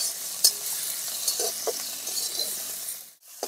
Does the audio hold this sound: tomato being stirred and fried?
yes